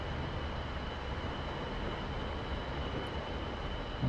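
A MiG-29A jet in a flight simulator game rolls after landing. A steady, even engine roar and airflow rush hold throughout, with a faint high whine and no talking.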